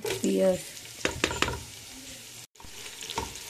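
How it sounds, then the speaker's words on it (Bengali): Onions frying in oil in a pan for tehari or biryani, a soft steady sizzle with a few stirring scrapes and clinks, fairly quiet and close. "পেঁয়াজটা আমি ভেজে নিচ্ছি।"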